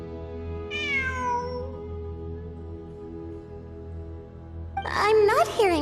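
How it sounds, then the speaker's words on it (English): A cat meows in a Genshin Impact cutscene, one drawn-out falling meow early on, then after a quiet stretch a cluster of sharper, louder meows near the end over a low steady hum. "I'm not hearing things. It really is a cat."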